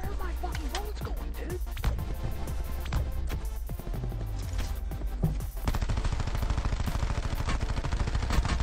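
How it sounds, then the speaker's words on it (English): Dense video game gunfire rattles in rapid bursts, with a continuous automatic stream toward the end, loud and close, and a voice is briefly heard under the shooting. "Burned a full 90 bullets on this guy."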